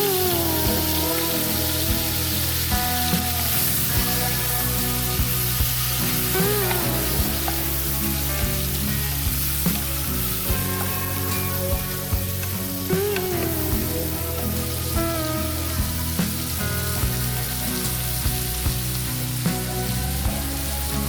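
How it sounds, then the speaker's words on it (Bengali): Prawns fry in hot oil and ghee with a loud, continuous sizzle, while bright music plays over it throughout and no one speaks. "তেল ও ঘি মিশে গরম হলে তাতে চিংড়ি মাছগুলো দিয়ে হালকা লাল করে ভেজে একটি পাত্রে তুলে রাখব।"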